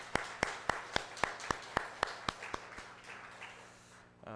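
Steady rhythmic clapping during a Korean church dawn prayer service, about a dozen evenly spaced claps that stop partway, quiet and somewhat distant, with faint background hum.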